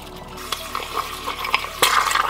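Dry ice bubbles in hot water, giving a close, irregular run of gurgling pops and liquid splashes with a few sharper bursts.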